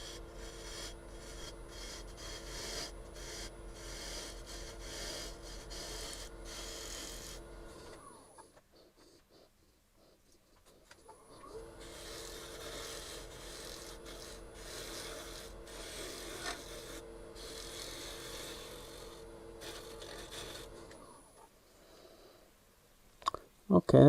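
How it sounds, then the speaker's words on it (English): Sandpaper rasps against a turned wooden bowl spinning on a lathe in two long, close bouts of steady rubbing, separated by a few seconds of near silence, with a couple of sharp clicks at the end. "tool marks you just got to clean up with sanding"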